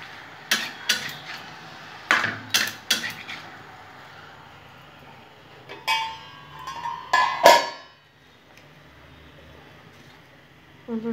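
A vegetarian dish stirred in a cooking pot, the spoon scraping and knocking against the metal in several short clattering bursts with pauses, fairly close and moderately loud, with no one talking.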